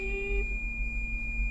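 A sustained high-pitched electronic tone holds steadily throughout, with a lower hum underneath and a brief mid tone at the start.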